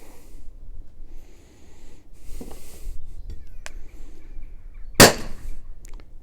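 A single sharp shot from an LTL Alpha 1.50 defense launcher firing a rubber steel ball, loud and close, standing out from a quiet background with a few faint clicks and handling noises.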